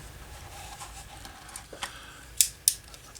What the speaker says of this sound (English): So, let me cut these two apart here.